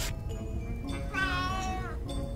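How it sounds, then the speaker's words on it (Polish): A cat in the adventure game A Vampyre Story lets out a single drawn-out, rising-and-falling meow, clear and fairly close over a quiet ambient game background. "Frederick, look, it's a cat."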